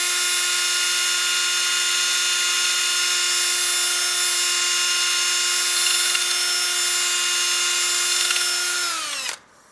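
A wooden bowl spinning on a lathe with 180 grit sanding, a loud steady motor whine with a bright harmonic hum that holds evenly, then winds down sharply as the lathe stops at the end.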